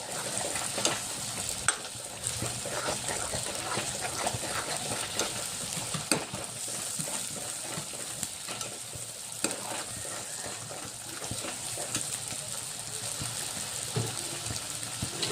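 A masala for kat vada fries in a pan with a continuous soft sizzle and occasional stirring scrapes, close and steady throughout with no voices.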